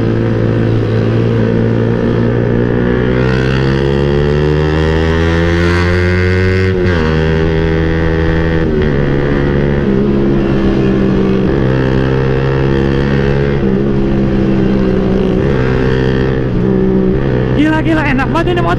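Suzuki Satria FU 150 underbone motorcycle ridden on the road, its engine giving a steady, close drone whose revs shift up and down a few times as the bike pulls along.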